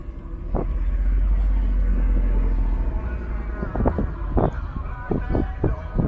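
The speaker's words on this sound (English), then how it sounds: "So they get to drive around, they get to go up this big hill here" Jeep vehicles, including a Rubicon, climb a big hill on an off-camber off-road course at a Jeep Beach event, giving a steady low engine rumble with sharper thumps and knocks as they crawl over terrain.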